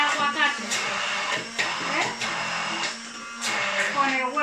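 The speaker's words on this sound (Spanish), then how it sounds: "Y lo vamos a batir" Blender whirring steadily while mixing avocado mayonnaise with egg, a continuous motor drone with a few surges, under a person talking intermittently.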